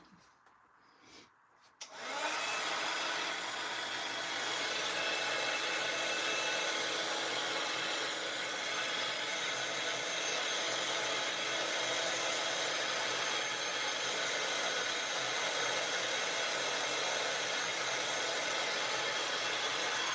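A heat tool switches on and blows a steady, loud whirring roar that continues without a break. It is drying a mixed media slimline pop-up diorama card.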